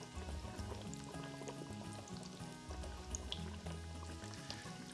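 Breaded schnitzel frying in a pan of hot oil, one cutlet at a time, giving a steady, dense bubbling sizzle that runs unbroken for the whole stretch over a low background rumble.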